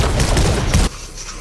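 Rapid bursts of gunfire in the Fortnite video game crackle loudly for under a second, then drop off abruptly into a quiet low background.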